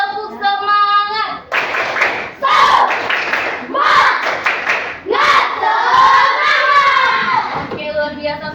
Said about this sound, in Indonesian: Namanya juga tepuk semangat.